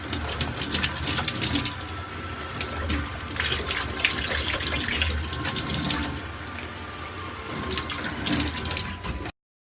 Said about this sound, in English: I'm gonna rinse off and see what that feels like.